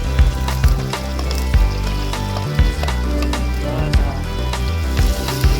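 Onions and green chillies with turmeric fry in a pan for village-style chamadumpala pulusu, a close, steady sizzle broken by several sharp stirring clanks at a loose rhythm.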